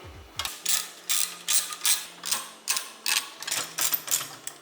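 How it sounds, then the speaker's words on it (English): A ratcheting tool backs screws out of a car headlight housing, a close series of about a dozen quick rasping clicks in short bursts, alone with no talk. "So now we're gonna remove this screw, and this screw."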